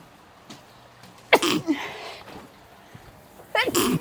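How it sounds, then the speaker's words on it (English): A single sharp sneeze while cooking spicy flautas and homemade coleslaw in a home kitchen, bursting out after a quiet stretch, followed moments later by a short voiced sound. "I'm going to sneeze because that's spicy."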